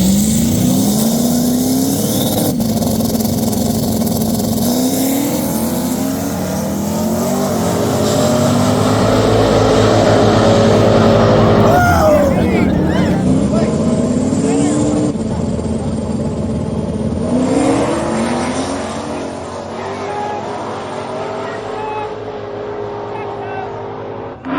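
A drag racing car makes a pass down a track on a sketchy surface, its engine loud and close, revving and climbing in pitch with shifts, then fading as the run ends.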